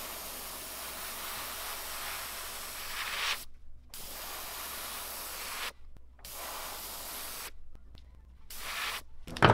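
Aerosol spray paint hissing as black is applied to a fathead minnow jerkbait, long continuous bursts of steady hiss broken by short silent pauses, close and fairly loud.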